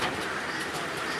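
Pigeons on a pigeon farm coo softly and continuously at close range, their murmuring calls blending into a dense, steady texture.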